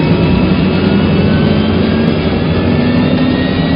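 Enstrom 480B helicopter with a Rolls-Royce turbine engine, a steady, loud, continuous turbine whine and rotor roar that holds evenly throughout with no talking.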